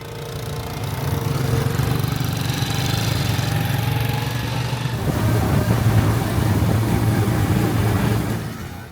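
A motorbike engine hums steadily nearby, its tone shifting and growing rougher partway through, with no voices.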